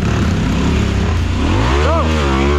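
A Husqvarna trail motorcycle in Tasmania revs hard and steadily, engine pitch climbing and dipping near the end, loud and close throughout.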